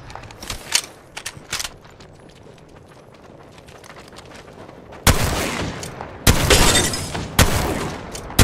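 Loud bursts of gunfire in Apex Legends, with a few scattered shots early on, then heavy sustained volleys in quick succession close by in the second half.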